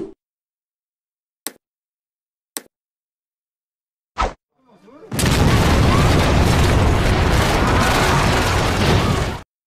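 A few sharp pops, then a loud, sustained roaring blast of broadband noise from an explosion in the film High and Low The Movie, rumbling on for several seconds before cutting off.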